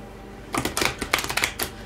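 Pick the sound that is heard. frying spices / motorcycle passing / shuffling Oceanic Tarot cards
shuffling Oceanic Tarot cards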